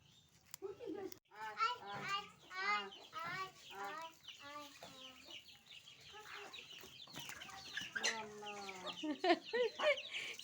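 Chickens cluck and squawk excitedly as they crowd in while being fed in a Bengal village yard, repeated close calls overlapping with children's voices and talk.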